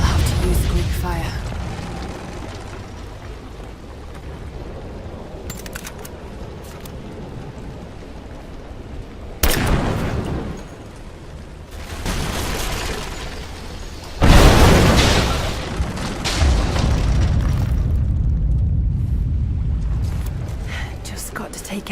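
A Greek fire vessel bursts into fiery explosions in Rise of the Tomb Raider, heavy booms and crackling roars that swell and fade over a constant rumbling game background, with a voice speaking softly in places.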